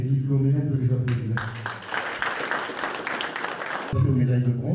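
At the annual assembly of the Souvenir Français, an audience breaks into applause for the graduates, a burst of many hands lasting under three seconds, with a voice speaking before and after it.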